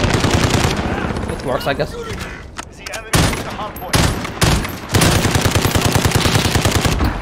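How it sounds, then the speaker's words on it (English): FAMAS rifle fire in Call of Duty: Modern Warfare 2019 crackles in rapid bursts, dense rattling volleys broken by brief pauses, with a player talking briefly over the shooting. "I'm still not used to FAMAS recoil to be honest"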